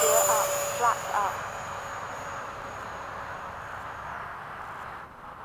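A BAE Hawk jet sends out a steady, high engine whine and roar at takeoff, heard from inside the cockpit, with a brief voice over it near the start.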